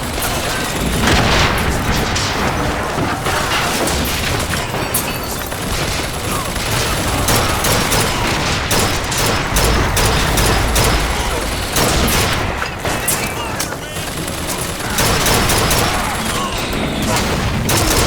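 Relentless gunfire and booming rocket explosions from the Bioshock Infinite video game fill the whole stretch, loud and dense with repeated blasts, a brief voice in the mix.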